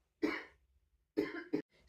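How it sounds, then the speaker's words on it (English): A single close cough followed a moment later by two more short coughs, sharp and throaty, with quiet pauses between. "Sorry, I have to have a little cough."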